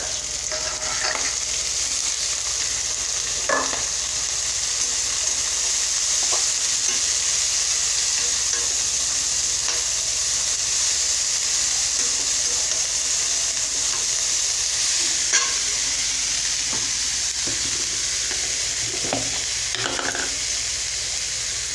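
Leafy greens hiss and sizzle steadily in a pan with onion and garlic, a continuous bright frying noise with occasional soft stirring scrapes and no talking.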